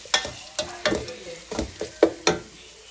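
Ginger and garlic fry in a pan with a rhythmic series of about eight stirring scrapes and clatters over a low sizzle, close and fairly loud.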